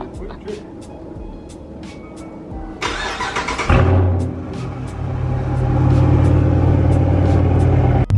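A Dodge Charger fitted with a wicker bill spoiler starts up with a short crank, then its engine settles into a loud, steady rumble that swells slightly, heard up close.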